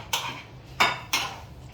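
Apples going into a pan for pommes rissolées with salted butter caramel make three sharp clattering impacts, each a short metallic crash that quickly dies away, with quiet between them.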